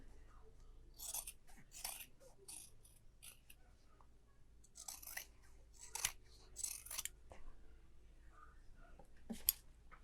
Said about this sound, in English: And I'm going to trim the seams and the corners.